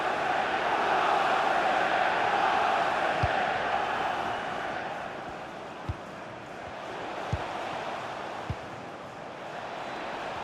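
Stadium crowd noise from a FIFA 20 Premier League match, Manchester United against Manchester City, a steady broad roar swelling behind commentary with a few sharp thuds of ball kicks.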